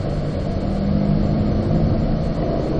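Close, steady rumble of a car engine on a race track at Spring Mountain as the driver brakes and downshifts to third gear, a continuous loud drone with no clear rev spikes.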